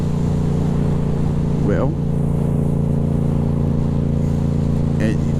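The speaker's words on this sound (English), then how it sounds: "doing about 25 miles an hour in 4th gear is probably about as quiet as you can possibly be on a FZ07 with a full exhaust on it" Yamaha FZ07 motorcycle fitted with a full exhaust, cruising at about 25 mph in 4th gear, gives a steady low engine drone throughout, with someone talking over it.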